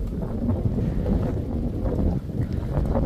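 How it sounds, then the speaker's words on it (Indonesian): Strong outdoor wind buffets the microphone in a continuous low rumbling roar, with gusts rising and falling over a few seconds. "maaf ya guys ya kalau anginnya besar"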